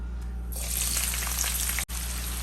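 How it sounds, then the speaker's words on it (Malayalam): Two small sliced onions hit hot oil in a kadai and start frying with a sudden, loud, steady sizzle that carries on close by with no talk. "രണ്ട് ചെറിയ സവോള സ്ലൈസ് ചെയ്ത് വെച്ചിട്ടുണ്ട് നമുക്ക് അതിനെ ആദ്യം ഇട്ട് ഒന്ന് വറുത്തെടുക്കാം"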